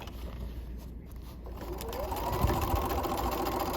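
A sewing machine edge-stitches the seam where a bucket hat's brim meets the crown. It runs in a steady, continuous mechanical whir that grows slightly louder partway through, close up with no talk.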